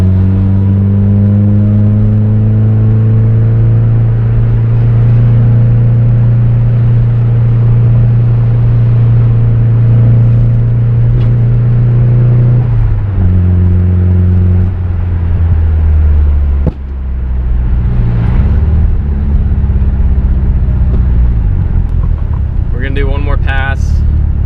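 Nissan 240SX with a built SR20DET engine climbing a hill in third gear at low revs without boost, a loud steady engine drone that shifts pitch partway through, with faint voices near the end.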